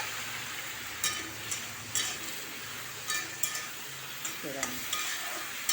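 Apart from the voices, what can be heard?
brinjal and tomatoes frying in a pan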